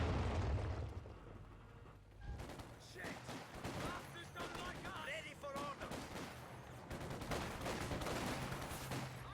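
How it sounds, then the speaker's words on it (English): Machine gun fire in the real-time strategy game Company of Heroes 2, with rapid crackling bursts and distant booms of battle running continuously over a busy mix of in-game sound effects. "The MG's getting some hits."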